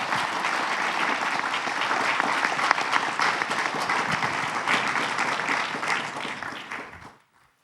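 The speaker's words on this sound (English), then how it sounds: "please give a round of applause to them" Audience applause for panelists at the Lámfalussy Conference, a dense, steady roar of clapping from a large hall that holds for about seven seconds before cutting off abruptly.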